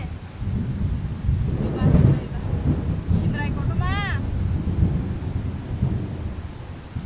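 Steady rain and wind noise roar through the clip, with a low rumble like thunder, while a person speaks briefly over the storm during flooding in Agartala city.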